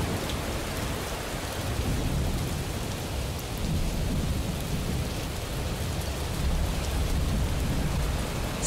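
Heavy rain pours down steadily in a thunderstorm, a dense, loud, even hiss with a low rumbling undertone throughout and no voices.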